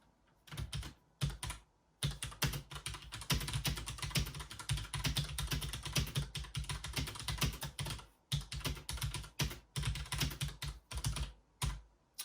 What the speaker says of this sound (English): the last step of my writing process is I start typing